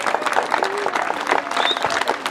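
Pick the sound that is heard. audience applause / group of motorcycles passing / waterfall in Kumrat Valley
audience applause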